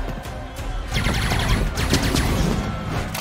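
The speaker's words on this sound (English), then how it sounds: "why don't you guys go ahead and hit Bishop with those energy weapons" Energy weapons fire in the X-Men '97 animated cartoon as a rapid, dense volley of zapping blasts over a loud, busy mix, continuous for a few seconds with no talking.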